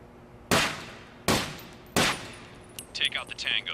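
Three sharp, loud gunshots ring out on a video game firing range in Takedown: Red Sabre, evenly spaced about a second apart, followed by quieter clattering mechanical handling sounds.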